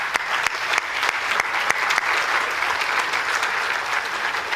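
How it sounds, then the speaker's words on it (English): Applause breaks out at a gala sponsor auction as a crowd claps for a presenting sponsor, a dense steady patter of many hands with a few sharp nearby claps, continuing evenly throughout. "Round of applause."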